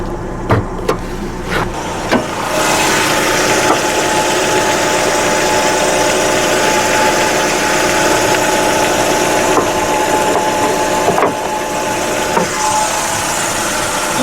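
The replacement engine of a 2003 Chrysler PT Cruiser Touring idles steadily with the hood open, a loud, close, even rumble after a few clunks and knocks at the start.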